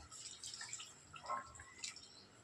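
Hot water poured into cooking mutton for a Marathi mutton gravy, a faint close splashing and trickling with a brief gurgling burst midway and no voices.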